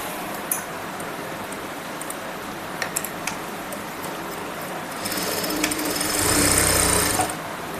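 A sewing machine runs at close range stitching a pocket onto a kurti, with a steady buzzing hum, a few light ticks, and a louder, faster burst of stitching near the end; no talking.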